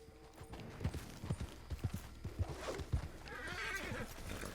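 A horse in the video game Red Dead Online clops along with a series of distinct hoofbeats, then gives a whinny, moderately close against a soft outdoor background.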